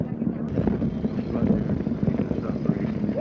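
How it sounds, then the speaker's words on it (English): A steady low engine drone of aircraft circling overhead before a land-speed record run, blended with wind rumble and nearby voices. "Planes circling overhead, waiting for the run to start."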